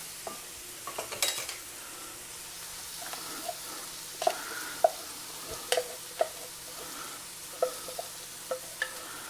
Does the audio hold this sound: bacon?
yes